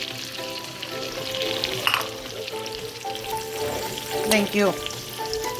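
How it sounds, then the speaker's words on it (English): Onions sizzle steadily in a hot frying pan, a close crackling hiss with brief clatter and a short spoken remark. "now it's sizzling, so let's go ahead and put some onions in here."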